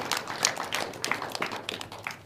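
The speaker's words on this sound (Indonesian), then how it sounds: "Boleh tepuk tangan?" A studio audience at a Banten TV cultural dialogue show applauds, producing a dense, continuous patter of many hands clapping fairly close by that lasts throughout.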